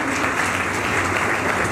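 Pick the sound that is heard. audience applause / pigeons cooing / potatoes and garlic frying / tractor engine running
audience applause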